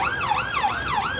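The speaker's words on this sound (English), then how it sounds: "There are police cars everywhere." A police car siren near Downing Street in Westminster, London, wailing up and down in a fast repeating sweep, loud and close over low street rumble.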